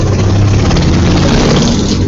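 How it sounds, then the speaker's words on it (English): Loud, close Harley motorcycle engine revving in a dense, rough rumble that fills the moment without pause. "It's my Harley. Motorcycle."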